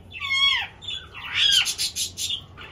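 A young male pet parrot lets out loud, harsh squawks at close range, with an opening screech followed by a burst of rapid, raspy calls.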